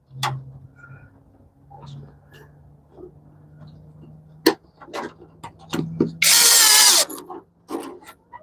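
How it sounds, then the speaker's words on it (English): A power drill driving screws into wood whirs in one short, loud burst, with light clicks and taps of handling before and after it. "And drill that in just like that."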